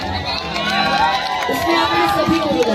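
A crowd at a live Bhojpuri stage show cheers and shouts, loud and continuous across a few seconds, with excited voices blended into the roar.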